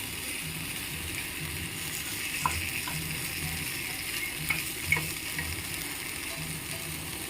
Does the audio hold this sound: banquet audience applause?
no